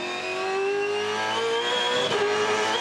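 A V8 Supercar engine revs high and hard while racing at Darwin, a loud, close, steady whine with a brief dip and recovery near the end.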